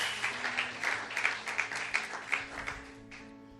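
A church congregation claps in steady rhythmic unison, a fairly faint run of regular beats that fades out near the end.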